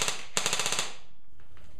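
A KWA KM4 SR10 Milsim airsoft rifle on a 9.6 V battery fires two quick bursts, a lone shot followed by a rapid, crisp run of about six shots, close and loud before fading to quiet.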